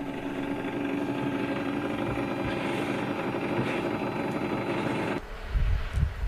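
A steady, loud engine drone and rushing airflow fill the cabin of an aerial refueling tanker aircraft in flight, then the sound shifts abruptly near the end into a deeper, buffeting rumble.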